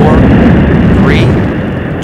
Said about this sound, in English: We have go for main engine start.